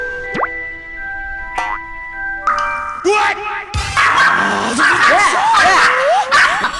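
A dog yelps and barks in short bursts at an older woman in a home, with a voice talking over the later noisy stretch.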